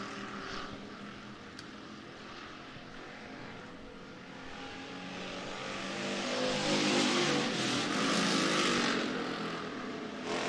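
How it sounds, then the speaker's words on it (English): Sportsman race cars lapping a speedway oval during the final lap of a heat race, a broad engine roar that swells as the pack draws nearer, steady and mid-distance with no talk. "Final time around for these Vans Implement Sportsman cars."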